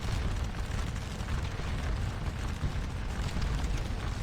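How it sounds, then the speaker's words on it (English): Artillery shells exploding on an infantry square in the Napoleonic battle game Scourge of War Waterloo: a continuous rumbling roar of distant booms and blasts with no clear gaps, and no talk. "the square is getting bombed on by the artillery"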